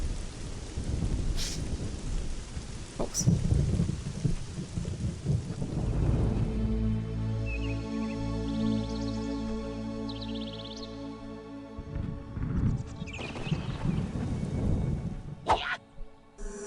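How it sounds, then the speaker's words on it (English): Lightning storm in the Black & White video game, with heavy rain and rolling thunder cracks around a sustained droning background, loud and close. "I think the rocks got hit by lightning and were temporarily on fire."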